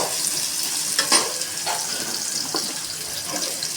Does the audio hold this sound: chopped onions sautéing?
yes